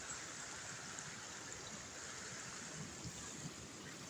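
Flood water rushes steadily past during light rain in a low-lying flooded area, a constant broadband wash that is fairly faint and unbroken, with no voices.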